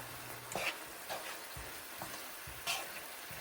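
Shrimp and riced cauliflower with sweated onions sizzle in a large, wok-like skillet, a constant frying hiss broken by a few scrapes and taps of a utensil stirring the pan.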